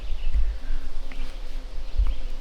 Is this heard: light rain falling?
no